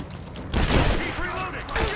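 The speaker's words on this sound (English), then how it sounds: "Taking fire!" Heavy gunfire in the Rise of the Tomb Raider video game, a dense burst of rapid shots and impacts over shouted game dialogue, loud and continuous for about two seconds.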